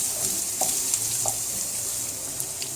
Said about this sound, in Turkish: Birkaç dakika daha kavuracağım kıymama.